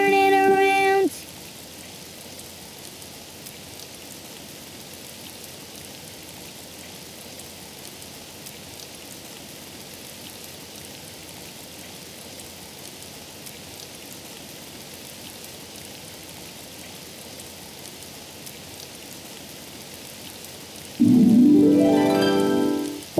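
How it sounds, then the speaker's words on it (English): Steady rain falls outside as a constant, even hiss of drops, with brief louder sounds at the very start and near the end. "It's raining outside."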